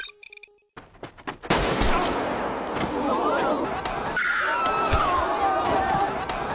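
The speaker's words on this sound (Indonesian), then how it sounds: "Dia kemudian berlari dan suara tembakan kembali terdengar." Gunfire in a deadly survival-game film, with sharp repeated shots over a dense, chaotic mix of running, panic and voices, loud and close throughout.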